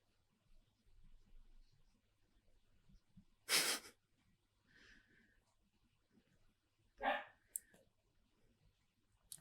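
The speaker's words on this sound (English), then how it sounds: "Because she won't stop barking." A dog gives two separate barks a few seconds apart, faint to moderate in level, with a quiet room around them and no speech.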